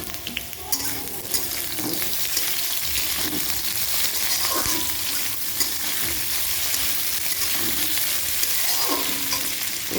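Prawns frying with brinjal in a pan, a loud, continuous, close sizzle with stirring scrapes throughout.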